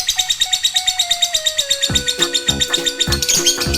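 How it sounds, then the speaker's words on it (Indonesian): A parakeet chirps in quick, regular bursts, with a bright repeated call over a steady rhythm and denser, busier chirping toward the end. "Ini adalah burung parkit."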